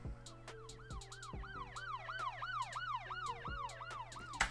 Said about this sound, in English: got some police sirens